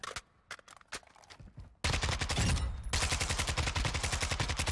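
Automatic gunfire in the Modern Warfare 2 firing range: a few scattered shots at first, then a loud, sustained rapid burst of fire running to the end.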